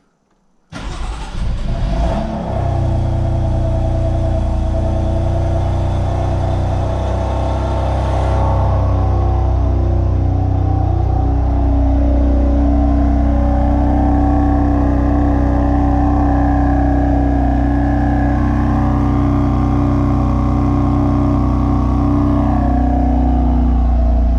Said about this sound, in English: That was me opening the valves for the cold start. It's not a big difference, but it is a little bit louder when you turn it on.